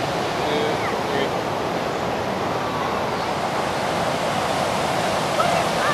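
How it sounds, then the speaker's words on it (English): Big ocean waves break on a beach near Monterey, California, producing a continuous loud roar of surf with rushing, hissing wash. The sound is close and fills the whole stretch without any talking. "Big waves."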